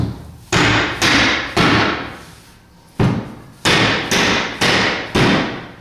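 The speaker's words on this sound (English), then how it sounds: "So we're going to put them in and tap them down." Nomad bed frame pieces being tapped down to seat their joints during assembly, giving about eight firm, close wooden knocks in two uneven bursts with brief ringing decay after each, and no talking.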